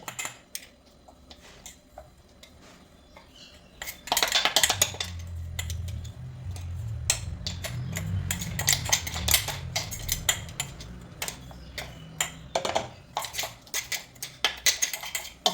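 Scrubbing and clattering of a pot being washed in a home kitchen, with scraping and knocking of metal and a steady low rush of running water.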